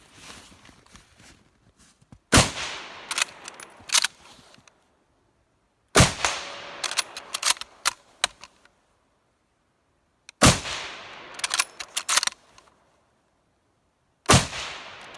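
Rifle shots from a Mauser K98k and a Mosin Nagant m91/30 fired outdoors from a kneeling position, with four loud, sharp cracks spaced several seconds apart, each followed by bolt-action clacks and rattles.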